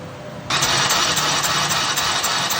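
A Mio motorcycle engine with a high-speed 4-valve head fitted is turned over and catches, a sudden jump from quiet into a steady, loud mechanical churn close by.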